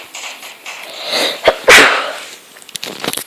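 A person sneezes once sharply mid-clip, a sudden loud burst standing out over quieter background noise during a Prop Hunt gaming session.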